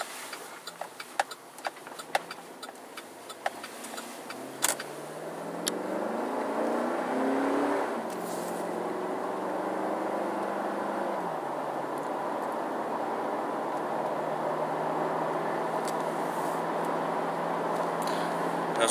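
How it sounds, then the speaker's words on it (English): Engine of a 2007 Chevrolet Silverado LT 1500 4x4 pickup pulling out onto the road, starting from light clicks and a low idle, then swelling into a steady, fairly loud driving drone with no talking. "We're going to go ahead and pull out on the road here and take this for a quick spin."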